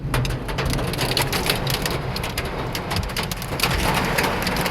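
Heavy rain pours steadily during a tornado-warned storm in Fort Worth, Texas, a dense, close hiss of drops hitting surfaces throughout with no voices.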